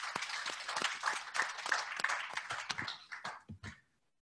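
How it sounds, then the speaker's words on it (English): An audience at a diabetes panel applauds a speaker, sharp individual claps spread across the room, fairly quiet and thinning out toward the end before fading to silence. "please let's give an applause to Edgar."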